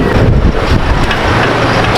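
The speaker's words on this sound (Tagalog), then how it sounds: "Lakas ng hangin." Loud, roaring gusts of wind buffeting the microphone, a dense low rumble with no pauses.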